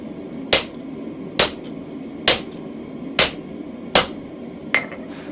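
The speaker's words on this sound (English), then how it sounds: "chisel a little bit, and again chisel a little bit, and again chisel a little bit" Hammer striking a chisel into hot steel while forging a toasting fork, six sharp metallic blows spaced about a second apart, loud and close over a low background hum, the last one lighter.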